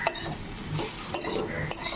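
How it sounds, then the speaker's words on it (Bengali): Mashed jackfruit frying with chili powder in a pan, a soft close sizzle broken by three sharp clinks and scrapes of a spoon stirring against the metal. "ভালো করে ভেজে নেওয়া হয়ে গিয়েছে এঁচোড়"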